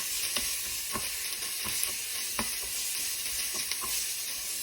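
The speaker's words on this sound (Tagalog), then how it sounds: "Lalagay tayo ng konting patis, black pepper, konting dry parsley, magic seasoning, at mix natin" Meat sizzles in a hot pan as fish sauce, black pepper, dried parsley and seasoning are stirred through it, a steady close frying hiss broken by light spatula scrapes.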